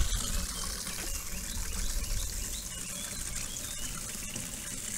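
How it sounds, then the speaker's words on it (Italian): Potted fig cuttings being watered, a steady close gush of water pouring onto soil for several seconds, continuous and fairly loud with no voices. "Ci diamo una bella annaffiata."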